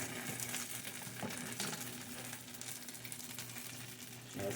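An egg sizzles and fries in a pan of homemade corned beef hash, a steady, close, crackling hiss with no talking.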